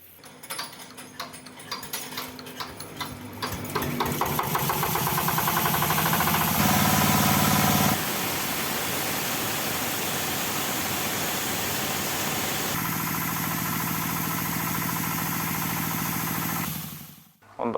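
A corn and coffee threshing machine's engine ticks unevenly at first, then runs up to a loud, steady mechanical roar that holds for over ten seconds and stops abruptly at the end.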